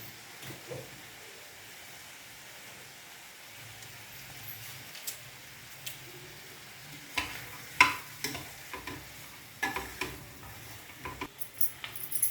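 Curry leaves sizzle in hot oil in a frying pan, soft steady frying with scattered crackles and scraping stirs that get busier toward the end, fairly close and alone.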